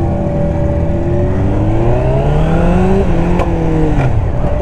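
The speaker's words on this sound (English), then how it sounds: "We are on the Honda CB700SC. Clutches engaging and we're riding it." A Honda CB700SC motorcycle being ridden, its engine droning loud and close throughout with pitch rising steadily through the revs, then easing off toward the end with no talking.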